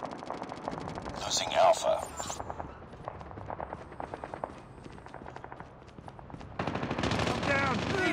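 Bursts of rapid automatic gunfire in Call of Duty Mobile ring out through a 10v10 match, loud at first, sparser in the middle, then heavy again near the end, as a game announcer voice speaks over them.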